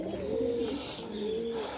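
Pigeons give two soft, close coos in quick succession, each a low rolling call over faint background noise.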